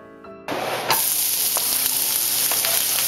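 Onions dropped into hot coconut oil, bursting into a loud, close, steady sizzle after a brief quiet start, with faint stirring scrapes under the hiss.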